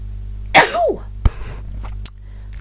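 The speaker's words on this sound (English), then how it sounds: "Okay, excuse me, I'm going to sneeze." One loud close human sneeze with a sharp explosive burst and a rising-falling vocal tail, followed by a couple of small clicks and soft breathing sounds in a quiet room.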